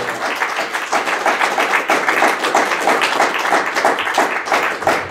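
A church congregation applauds, a dense continuous round of clapping that holds steady and loud throughout.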